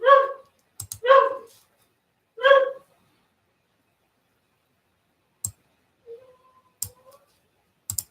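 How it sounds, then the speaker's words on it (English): A dog barks in a few sharp, close, loud bursts at the start, followed by scattered faint clicks and small knocks in an otherwise quiet room. "Come on, dog. Stop barking."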